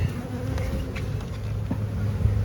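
Honeybees buzzing around an open drone hive, a steady close hum of many wings with individual bees passing near, no talking.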